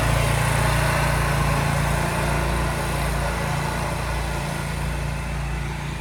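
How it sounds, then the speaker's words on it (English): Riding lawnmowers travelling along a town street, a steady droning small-engine hum with low rumble, continuous and fairly close, fading slightly toward the end. "You drive your lawnmower down the road if you want them."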